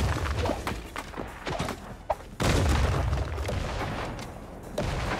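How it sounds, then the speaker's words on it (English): Grenades burst in the Creative Destruction battle royale video game, several heavy booms and thuds in quick succession, one sharp loud blast near the middle followed by rumbling debris, with no talking. "Grenades are being tossed from both ends."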